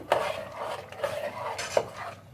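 A spoon scrapes and clinks against a pot while salted mutton saaru is stirred, three or four distinct metallic strokes over a soft background rustle, close and moderately loud.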